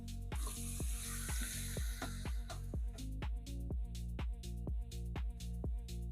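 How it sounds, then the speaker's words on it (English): Yellow onions and peppers sauté in a cast iron pan with a constant hot sizzle, punctuated by a regular series of sharp taps and scrapes from stirring, close up and with no talking. "now I got some yellow onions, some peppers, and we're gonna saute these babies in this cast iron"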